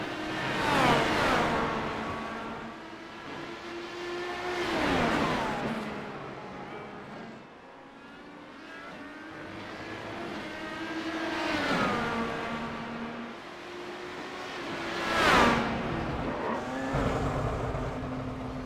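IndyCar race cars at Road America, engines rising and falling in pitch as several cars pass at speed, loud passes alternating with quieter stretches, with no talk.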